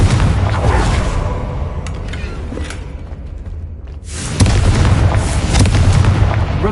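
A Confringo fire spell explodes in a Hogwarts video game: a low rumble, a brief quiet gap, then a loud booming burst that carries through to the end.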